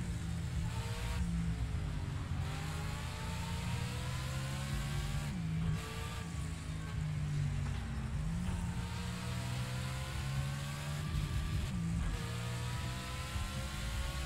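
A DTM race car engine in Project Cars 2 on a wet track, loud and close, with a continuous high-revving howl broken by repeated gear shifts that drop the pitch before it climbs again.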